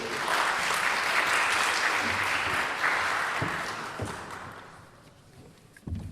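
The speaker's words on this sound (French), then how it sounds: "Veuillez les applaudir" An audience at a gathering of young Muslims in Luxembourg applauds a youth group being welcomed, the clapping full at first and then thinning and fading toward the end, with a few scattered thumps near the close.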